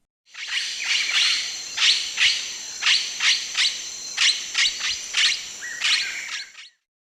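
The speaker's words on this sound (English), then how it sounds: "Blue-headed parrot." Blue-headed parrot giving a run of about a dozen sharp, high, metallic calls in a loose, steady rhythm, clear and close with no other sounds.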